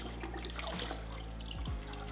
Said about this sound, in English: Let's try to rinse it.